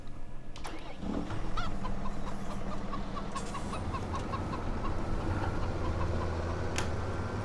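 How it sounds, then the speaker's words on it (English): Chickens cluck and squawk repeatedly in a farmyard in the video game Farming Simulator 17, rhythmic clucks over a steady tractor engine hum, close and continuous, with no talking. "So many chickens that you could potentially run over."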